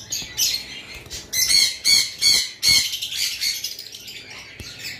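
High-mutation lovebirds kept for sale chirp and squawk close by in loud, overlapping bursts, shrill calls rising and falling with brief pauses between flurries.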